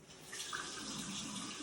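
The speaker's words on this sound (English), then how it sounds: "And so I'll start the water." Water runs steadily from a tap into a sink for hand washing, a continuous close splashing rush with no voices.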